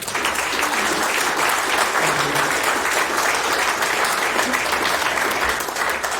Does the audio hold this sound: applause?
yes